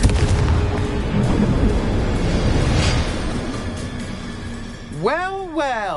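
Confringo spell explosions in the video game Hogwarts Legacy make a sustained roaring, booming barrage. Near the end, rising and falling whooshing tones cut through it.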